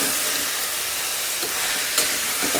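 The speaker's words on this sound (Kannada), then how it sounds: "ಇದು ಸ್ವಲ್ಪ ಚೆನ್ನಾಗಿ ಫ್ರೈ ಆಗಲಿ" Field beans and potatoes frying in a pan, a loud, steady hissing sizzle up close with a few faint stirring knocks.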